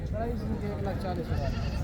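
Goats bleat at a livestock market in Dera Ghazi Khan, a few wavering calls among a crowd, mixed with steady talking and market bustle.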